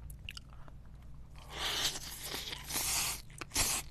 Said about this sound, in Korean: 새우랑 같이 먹어볼게요.